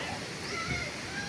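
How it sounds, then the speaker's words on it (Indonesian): Strong rushing water at a waterfall at Sindang Panjang, Tanjung Sakti, Pagar Alam, South Sumatra: a steady, dense broadband roar throughout, with a voice faintly audible beneath it. "Itu airnya deras."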